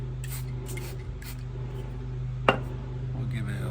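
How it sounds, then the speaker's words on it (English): A spray bottle spritzes apple juice and apple cider vinegar onto barbecue ribs, giving one short, sharp hiss over a low, steady background hum. "I like to spritz with apple juice and apple cider vinegar"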